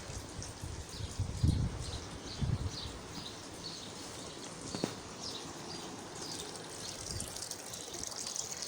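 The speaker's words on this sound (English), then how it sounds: "So we came here to fill up our water from the water source" Water runs from a spring water source on a hillside in a faint, steady rushing flow with a couple of louder gushes, and soft birds or insects sound in the background, with no voices.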